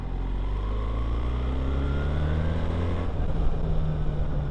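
A BMW R1300 GS motorcycle accelerates in third gear at about three-quarter throttle, its engine note rising steadily and loud throughout, close to the rider with no talk.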